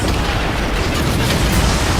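Cannon fire in an Assassin's Creed Black Flag naval battle makes a loud, continuous roar of booming explosions that fills the whole stretch with heavy noise.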